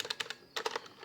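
Keys on a Rampage KB-R86 Umbra mechanical keyboard with red switches are pressed in two quick bursts of soft, close clacks, about four to five strokes each, separated by a brief pause.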